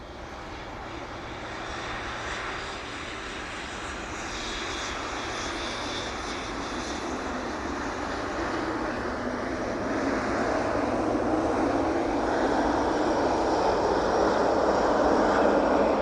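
A Boeing 777 airliner in from Delhi lands at East Midlands Airport and rolls fast down the runway, a steady broadband jet roar that grows louder and nearer throughout, with no talk.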